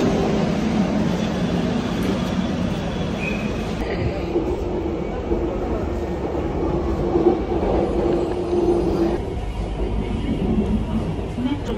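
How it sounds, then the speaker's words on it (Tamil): Steady rumble of a Kochi metro train running on rails, with a constant mid-low roar, faint rhythmic wheel clatter and occasional higher squeals throughout. "மெட்ரோவில் ஏறி போயிட்டுருக்கோம்"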